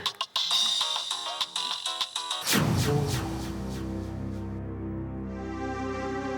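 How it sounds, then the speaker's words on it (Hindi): An electronic phone ringtone plays as a repeating melodic tone pattern, fairly loud and close, then gives way to sustained musical tones. "किसका फोन है?"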